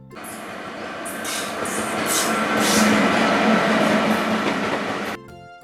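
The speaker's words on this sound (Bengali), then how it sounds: "র রয়ে রেলগাড়ি জোরে চলে।" A train rolls past at speed, a loud, close, steady rumble with rhythmic clatter of wheels on track that swells in the middle and then drops away near the end.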